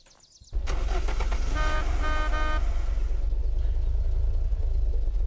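A car in the survival video game Unturned starts up and drives off, a steady loud engine rumble kicking in abruptly after a brief quiet moment and holding on, with a short tonal toot early on and no talking.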